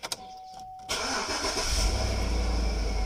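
A 2012 Chevrolet Tahoe engine cranks and catches after a few short clicks, then settles into a loud, steady idle close by.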